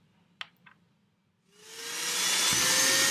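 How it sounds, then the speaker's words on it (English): A vacuum cleaner pressed against a pipe starts up after a couple of faint clicks, its motor rising in pitch into a loud steady whine and rushing airflow, close by. "more force is exerted by the vacuum cleaner onto the sensor"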